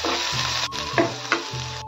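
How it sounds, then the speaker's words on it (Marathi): Chopped onion fries in hot oil in a pan, giving a loud, continuous sizzle with a few soft stirring knocks. "यात टाकायचा आपल्याला चिरलेला कांदा, याला छान लाल होईस्तोवर परतून घ्यायचे."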